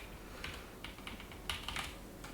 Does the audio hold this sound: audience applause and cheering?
no